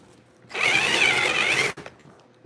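A power drill spins up for about a second, loud and steady with a whining pitch, then cuts off abruptly, leaving a quiet room with faint clicks.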